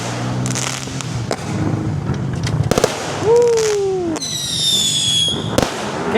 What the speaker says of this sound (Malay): Ni kan mercun dulu kot.